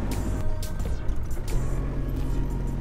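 A van rolls across the Gibraltar airport runway with a steady, close engine and road rumble, tires droning continuously with a few brief louder bumps, no voices.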